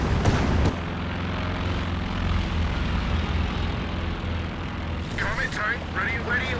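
Reconnaissance plane engines in the real-time strategy game Company of Heroes 2 make a loud, sustained drone amid battle noise, with a heavy thump at the start and someone talking over it.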